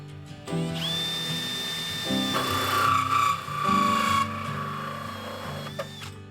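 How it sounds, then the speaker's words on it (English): A power drill bores holes into the plastic base of a 5-gallon bucket, its motor whining steadily with rising and falling pitch as the bit grinds through, close and continuous for several seconds. "Then we started to drill the holes"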